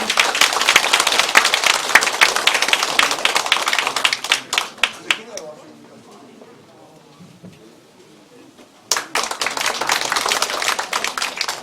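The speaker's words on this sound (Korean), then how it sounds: "큰 박수로 맞아주시기 바랍니다" An audience applauds to welcome a speaker at the dissolution ceremony of Tae Yong-ho's election campaign committee: dense, loud clapping for about five seconds fades into a quiet lull, then a second burst of applause breaks out near the end.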